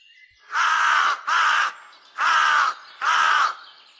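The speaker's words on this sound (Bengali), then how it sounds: "শুকনো শুকনো ডালে কতকগুলো কাক আমাকে দেখে কা কা করছে" Crows cawing from dry branches of dead trees, four loud harsh caws in a slow irregular series, close and alone.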